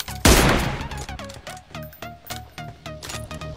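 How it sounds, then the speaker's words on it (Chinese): Gunfire in the mobile battle royale game Peacekeeper Elite: one loud close blast followed by a rapid series of sharper shots with ringing echoes, no talk over them. "同时注意听这个枪声，有枪的地方肯定就有人"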